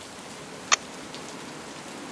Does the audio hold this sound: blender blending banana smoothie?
no